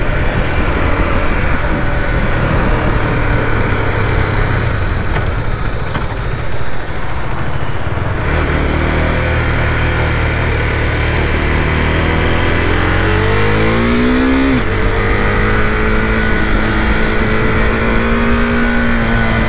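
A 2020 Husqvarna Vitpilen 401 motorcycle engine on its stock exhaust revs hard and loud, rising and falling, then idles and climbs again through a sweeping rev, close by with no voices.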